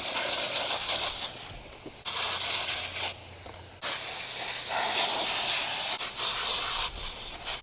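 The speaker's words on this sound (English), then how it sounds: "you can spray out the bottom and the debris comes out of this end here" A hose sprays water to rinse debris out of the filter of a Beatbot Sora 30 robotic pool cleaner, making a loud, steady hiss that briefly drops and surges as the spray moves.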